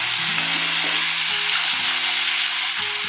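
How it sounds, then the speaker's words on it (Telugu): Chopped onions with fenugreek seeds frying in hot oil make a steady, dense sizzle that fills the whole stretch, with faint stirring underneath and no one talking. "ఇప్పుడు ఉల్లిపాయ ముక్కలు వేసుకున్నామండి"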